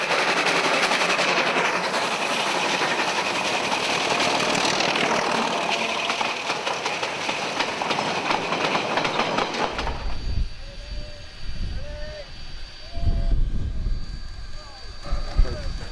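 Restored WW644 steam locomotive of the Glenbrook Vintage Railway in New Zealand, a loud sustained roar of the train passing close for about ten seconds, then a quieter stretch with squeals, rumbles and faint voices.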